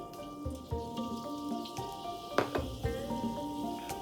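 Minced garlic, ginger and scallion sizzling in plenty of hot oil for northern flatbread stir-fry, a steady close crackle with scattered pops and spatula taps.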